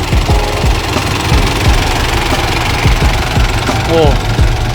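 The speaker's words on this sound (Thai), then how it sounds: "เครื่องเป็นของยีสุ 88 นะครับ เทอร์โบนี่แกมาใส่เอาเองครับ" A turbocharged Isuzu 88 diesel engine on a Thai farm truck runs loud and close with a rough, rapid knocking idle throughout, and someone talks over it.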